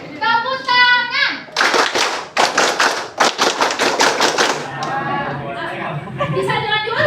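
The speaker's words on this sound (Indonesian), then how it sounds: "Oke, tepuk tangan." A class of students claps hands together, a loud burst of rhythmic patterned clapping filling a few seconds, with a teacher's voice talking before and after and some chatter underneath.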